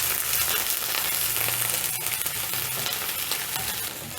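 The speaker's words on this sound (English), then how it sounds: "once the pan is hot, I'm going to add in my onion" Onion frying in hot cooking oil in a pan gives a loud, dense, continuous sizzle heard close up, with no voices.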